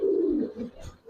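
A female Giribaz pigeon, held and then let go by hand, gives a single short, low, close coo that fades within about a second.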